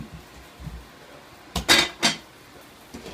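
Heavy Dutch oven pots holding no-knead bread dough are set back into an oven, a few metallic clanks and thuds in quick succession after a quiet start, followed by a faint knock.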